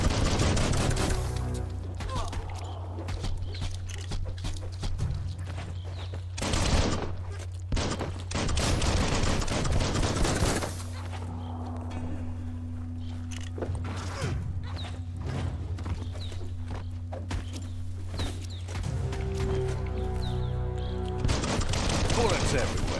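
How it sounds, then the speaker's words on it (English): Gunfire in the video game Biomutant crackles in bursts over a steady low in-game hum, with mechanical creaks and clatter between volleys and a player talking now and then. "Bullets everywhere."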